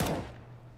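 A single pistol shot cracks out in a Counter-Strike-style competitive match on a pistol round, a sharp burst up close that rings away quickly into quiet.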